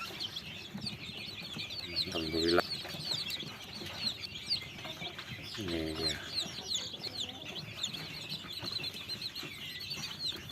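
Chickens cluck and flap inside a home backyard coop lit by a small 10-watt lamp, with low hen calls and a couple of louder rooster-like bursts over steady bird chatter, while someone speaks briefly.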